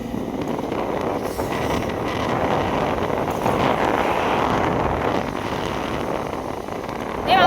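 Strong wind buffets the microphone in a steady, loud roar on a cold night outdoors on the way to a village fair, continuous for several seconds with no clear talk.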